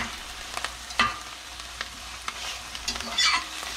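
Wild mushrooms sizzle as they cook down in a pan, with a constant close frying hiss and scattered clicks and scrapes from stirring over the top.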